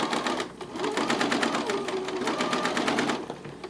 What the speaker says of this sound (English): And then you're just going to stitch this as straight as possible.